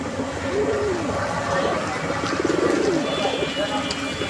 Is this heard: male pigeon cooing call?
yes